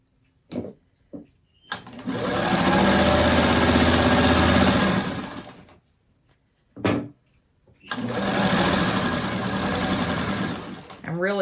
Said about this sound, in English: I'm really excited to be back to the sewing machine.